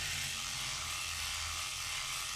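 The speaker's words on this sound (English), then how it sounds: "I just like the foil shavers because you can really bear down with them." A Philips Norelco Shaver 9400 foil shaver buzzes steadily against skin with a continuous mid-level hum and a few low rattling tones, with no talking.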